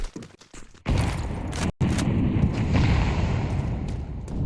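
A grenade exploding in the video game Counter-Strike during an ESL Challenger League match, a loud booming blast after a few brief clicks, leaving a sustained roaring rumble.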